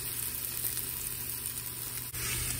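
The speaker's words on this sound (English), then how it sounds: "So first I'm going to fry the onions." Onions and garlic fry in a pan for vegetarian chili, a steady close sizzle with a soft low hum beneath and a brief dip near the end.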